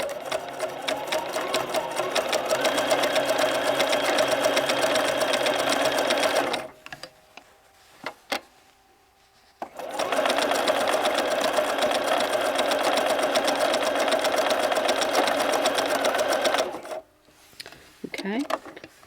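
A Bernina 1630 sewing machine gathers heavy quilted fabric in two long, loud, steady runs of fast stitching, split by a short pause with faint handling clicks, then a brief rustle at the end.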